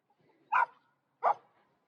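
Two loud, close dog barks about three-quarters of a second apart, each sharp and short, from an aggressive dog on a small farm near a pig house, with quiet background between them.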